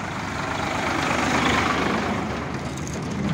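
A heavy tractor engine rumbles steadily at close range, a continuous low idling drone with no pauses or voices.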